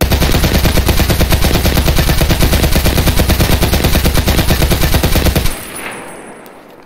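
Rapid single-fire macroed gunshots in Escape from Tarkov ring out as a loud, dense, evenly spaced burst lasting about five seconds, then stop abruptly and leave a fading echo.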